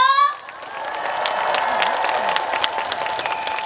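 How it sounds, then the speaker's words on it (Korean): A festival crowd claps and cheers loudly and continuously after a brief tone fades, with scattered whoops rising over the applause. "다같이 박수 함성 질러볼까요?"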